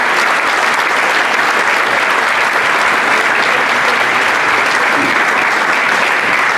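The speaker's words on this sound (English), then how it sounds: "Big round of applause for Brian," A large audience at a Brentford football club reunion evening gives a sustained, loud round of applause, a dense and steady wash of clapping throughout with no talking above it.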